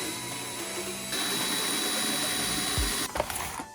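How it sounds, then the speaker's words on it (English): A power drill whines steadily as it bores a hole through a boat locker door, a continuous high buzz that ends with a few short clunks. "Want to drill a hole?"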